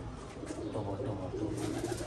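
Soft, low cooing of pigeons, repeated in gentle murmurs against faint background noise.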